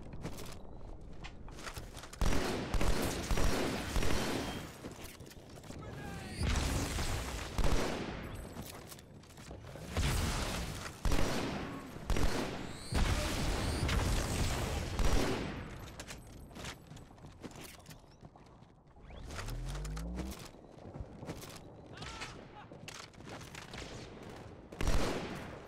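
A Halo 2: Anniversary firefight on a city street, with dense rattling gunfire, repeated sharp sniper shots and booming impacts, plus occasional footsteps, heavy and sustained throughout.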